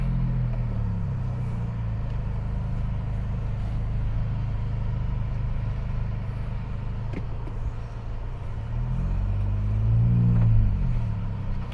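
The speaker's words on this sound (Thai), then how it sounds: "ลองลากเกียร์ดูแล้วฟังเสียงโบออฟด้วยครับ ตัวนี้เวลา ลากปุ๊บจะมีโบออฟด้วยนะ" A 2021 Honda City 1.0 turbo RS hatchback engine rumbles at a steady idle close by, then gives one brief rising rev near the end.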